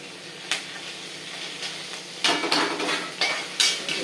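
Green chilli and ginger frying in a pan, with soft steady sizzling and several sharp metallic clinks of a spoon stirring against the pan, close and without voices.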